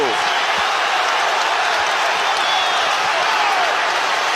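The stadium crowd at Old Trafford roars and applauds after a Manchester United goal against Liverpool, a loud, unbroken wall of cheering and clapping, with a commentator talking over it.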